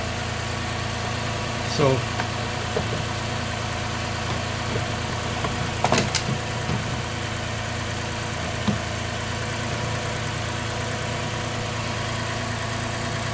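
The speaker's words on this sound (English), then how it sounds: "I'll let engine running." A 2018 Toyota Highlander engine idles steadily after a new stop-start battery has been fitted, with a constant low hum and a faint click or two. A brief word is spoken over it.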